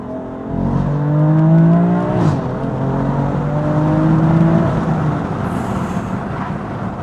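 A BMW M4 Competition Pack engine revving under acceleration while driving, with a rising, loud, close engine note, a gearshift dip in the middle, then another climbing pull.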